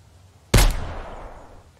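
A single sharp gunshot from a firearm in the survival video game Mist Survival, a loud sudden crack followed by a short decaying echo tail, heard alone.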